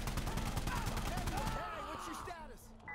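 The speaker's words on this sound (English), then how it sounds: "Lots of gunfire going off." Rapid bursts of gunfire in Insurgency: Sandstorm crackle and rattle for about a second and a half, then give way to quieter electronic tones and distant game sounds.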